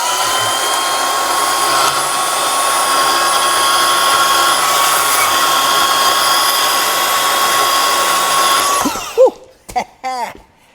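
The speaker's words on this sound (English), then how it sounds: "I'm just gonna take the bandsaw, cut that bad boy off" A bandsaw cuts through a bolt on a garage-built Chevy air ride suspension, a loud, steady, close grinding whine that holds for about nine seconds, then stops abruptly, followed by brief clanks.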